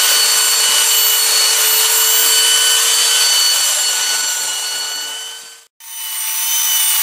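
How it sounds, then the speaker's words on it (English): A power sander works over a wooden tomahawk handle, a loud, continuous whining rasp that cuts out briefly near the end, then starts up again close by. "Now go ahead and sand that, and we'll be ready"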